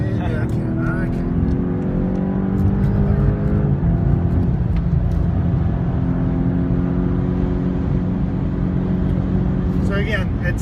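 A 2015 BMW X6M in 5th gear drives at speed among other cars, its engine a steady loud drone with road and wind noise, while someone talks continuously over it.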